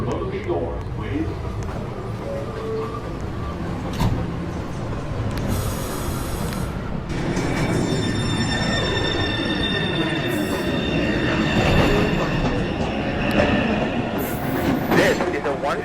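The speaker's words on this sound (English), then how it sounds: "This is a one-train going uptown towards Rector Street." A New York subway 1 train rumbles and clatters along the rails with repeated high wheel squeals, loud and close, while a voice talks over the noise.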